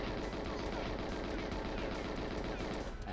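Repeated gunfire in the video game 007 GoldenEye, a dense, steady stream of rapid shots at even loudness running almost the whole time, with no speech over it.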